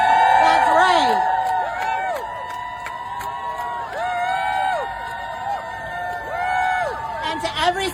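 A large crowd cheers and whoops at a rally, a sustained wash of voices swelling and fading across the whole stretch, with scattered shouts rising above the roar.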